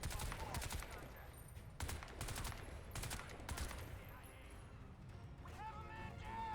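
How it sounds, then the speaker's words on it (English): Gunfire in the shooter game Crysis 2, with sharp bursts of automatic shots and scattered single rounds ringing out at mid distance over a busy background. "Shots fired. Contact."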